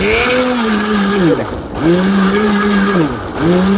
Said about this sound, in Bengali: এই যে সুইচটা অন করে দিব সর্বোচ্চ